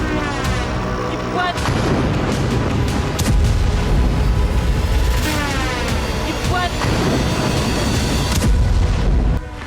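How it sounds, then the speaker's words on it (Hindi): A loud, sustained roar of a Russian kamikaze drone explosion in Sumy, Ukraine, with rumbling blasts and crackling debris, continuing densely for several seconds amid chaotic background noise. "सूमी में रूस के आत्मघाती ड्रोन से जोरदार धमाका हुआ।"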